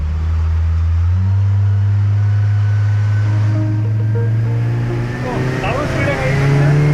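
A speedboat sets off across the water, its engine droning loud and close, then rising in pitch as it picks up speed, with splashing and wind noise toward the end.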